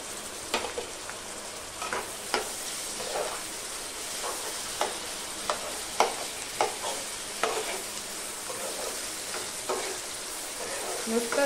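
Tomato frying in a pan for a dried shrimp and raw mango dish, a steady sizzle broken by repeated scraping strokes of a spoon as it is stirred, close and clear.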